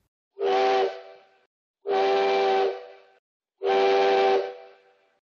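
Steam train whistle sounding three separate loud, sustained toots of about a second each, evenly spaced with short silences between, each with a breathy hiss and quick fade.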